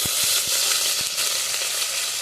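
Curry leaves hitting hot oil in a South Indian home kitchen, a bright continuous sizzle with a few sharp spatters and pops near the start.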